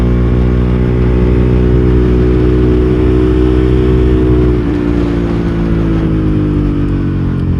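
A KTM 390 Duke single-cylinder motorcycle engine revs hard and steadily as the throttle opens on a Yorkshire road, a loud, close, continuous drone whose pitch holds high and then sags slightly near the end.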